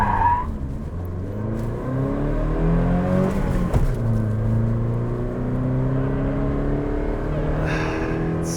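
A 2009 Toyota Tacoma pickup with traction control disabled, its engine droning at steady low revs that rise and sag as it bogs down under load, continuous and close, with a brief tire scrub partway through.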